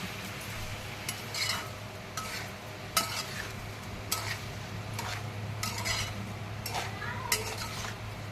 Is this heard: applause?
no